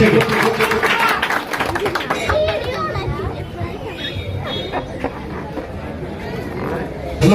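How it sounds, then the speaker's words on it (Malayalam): A crowd at a tea shop inauguration applauds for Boche, a burst of clapping mixed with chatter that fades into murmuring voices. "നല്ലൊരു കൈയടി ബോച്ചയ്ക്ക്."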